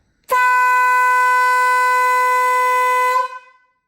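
A Stebel air horn fitted to a Triumph Street Triple 765 motorcycle gives one loud, steady, piercing blast of about three seconds, then cuts off with a brief trailing decay.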